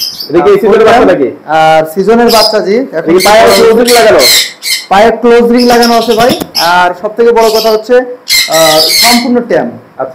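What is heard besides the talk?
Alexandrine parakeet (chandana) squawking calls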